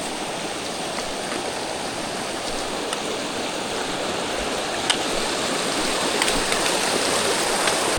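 Creek water flows steadily over bedrock veined with jasper in Washington State, a constant close broadband rush with no voices and only faint clicks within the wash.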